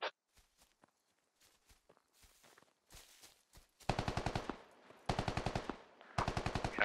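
Gunfire in the video game SquadOps: a few scattered single shots and footsteps, then several rapid bursts of close automatic fire in quick succession.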